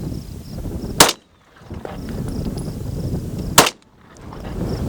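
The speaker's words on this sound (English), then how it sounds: "But just given a couple easy trigger squeezes." Two sharp, loud shots from a Walther PDP compact 9mm pistol fired outdoors, spaced a few seconds apart, each a crisp crack followed by a brief quiet drop before the background returns.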